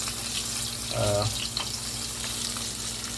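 Shrimp frying in oil in a pan, a steady close sizzle with a short louder burst partway through, and no talking.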